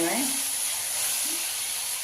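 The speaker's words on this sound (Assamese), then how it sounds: "এয়া বেঙেনা ভাজিখিনি হ'বলৈ হৈছে আৰু অকণমান বাকী আছে" Eggplant slices frying in a pan for an Assamese fish head curry give a steady, close sizzle and hiss throughout, with a few brief soft tonal sounds near the start.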